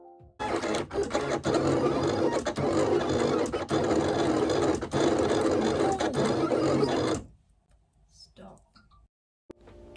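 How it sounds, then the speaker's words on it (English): Silhouette cutting machine cutting out stickers, a loud steady mechanical whirring and rattling with rhythmic clicks that runs for several seconds, then stops abruptly, leaving a faint clatter and near silence. "it goes into the Silhouette machine and I load it up and it starts to cut out the stickers"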